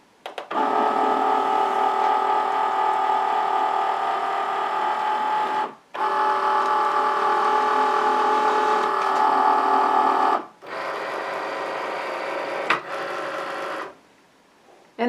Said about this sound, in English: I'm going to hit the load button.